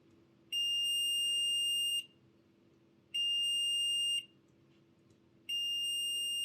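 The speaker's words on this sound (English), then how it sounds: "get the multimeter and we'll do a continuity test on the poles of the commutator" A multimeter on continuity test against the commutator poles of a Hornby Class 47 model locomotive motor gives three steady, shrill electronic beeps of about a second each, evenly spaced, close and clear over a faint low hum.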